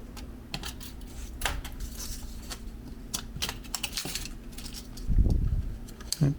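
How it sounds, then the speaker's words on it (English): Scissors snip through the thin aluminum inner wall of a 12oz soda can in irregular crisp clicks and metallic crinkles, close and fairly quiet, ending with a short dull thump. "you can just use scissors to cut the inner wall"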